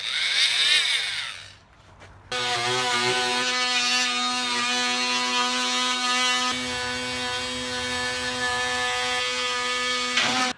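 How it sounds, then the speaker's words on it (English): Oscillating multi-tool cutting through nails in old fascia boards during replacement; a steady, loud, high-pitched buzzing whine runs unbroken for about eight seconds after a brief quieter start. "And I think my little multi-tool is going to work great for cutting nails."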